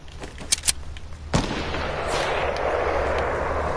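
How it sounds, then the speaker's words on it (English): Gunfire in the Fortnite video game: a few quick shots early, then one heavy blast that rolls into a sustained rumbling wash of noise, with no voice over it. "Why am I shooting?"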